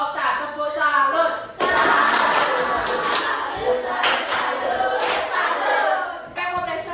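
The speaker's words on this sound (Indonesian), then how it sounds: "Tepuk salut." Children in an elementary school classroom clap a rhythmic salute together, with loud bursts of hand claps repeating over several seconds and voices calling out among them.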